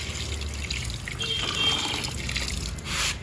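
Water trickles and pours into a container of coco peat being soaked for sowing Adenium seeds, a steady close wet splashing with a brief louder gush near the end.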